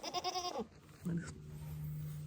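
A goat bleats loudly and close by, a wavering nasal cry in the first half second, then a second lower, drawn-out bleat or grunt follows, set against quiet farmyard background where goats are being wormed and hoof-trimmed.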